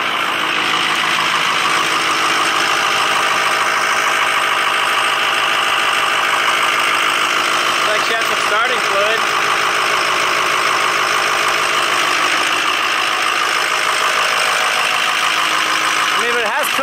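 A Ford F250's 6.0 Powerstroke diesel V8 idles loud and close with a steady rattling clatter, unbroken throughout, with faint voices briefly audible midway.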